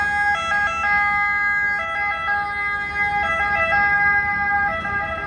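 An ambulance siren wails loud and close on a street in Gela, Sicily, in a continuous two-tone pattern that alternates steadily over engine rumble, with no voices.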